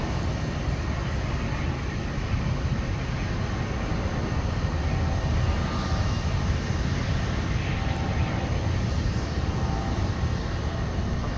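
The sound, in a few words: Airbus A330-900neo touching down at Minneapolis airport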